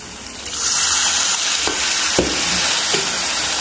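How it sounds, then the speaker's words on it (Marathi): Warm water is poured bit by bit into masala frying in a pan for a pea and potato rassa curry, a steady gushing stream over crackling sizzle with a few soft clinks, close and loud. "त्याला आपण थोडं थोडं पाणी टाकणार आहे"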